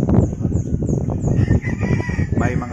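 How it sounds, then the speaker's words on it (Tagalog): Backyard flock of two-year-old gamecocks, stags and bull stags in a mountain village in Cebu, with repeated rooster crows and steady clucking close by over a dense, busy mix of fowl calls. "Itong mga manok mo, Boss Nap, mga ilang taon na kaya ito"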